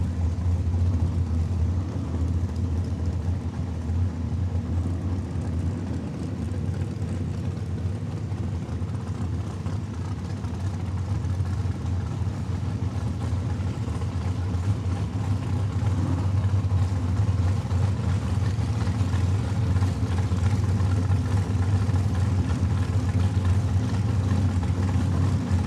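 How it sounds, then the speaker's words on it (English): A rear-engine RWH Motorsports dragster warms up its rear tires at Saskatchewan International Raceway's drag strip in Saskatoon during a points race. Its loud engine roar holds steady and continuous throughout, with no talk over it. "And that's Richie Harder warming up the rear tires on that RWH Motorsports rear engine dragster."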